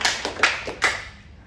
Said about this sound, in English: please give a big round of applause to our sales girl of the year